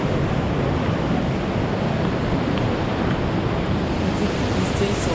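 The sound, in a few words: waterfall in the Philippines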